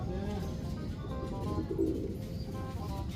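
Low pigeon coos murmur close by over a constant background hum, a short rolling call in the middle.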